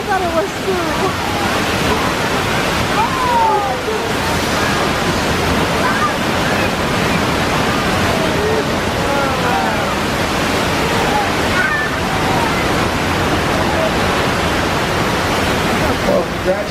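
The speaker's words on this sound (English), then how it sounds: "The water main broke." Rushing, splashing water from a burst water main flood effect on a Universal Studios Hollywood studio tour, a loud steady torrent lasting throughout, with faint voices underneath.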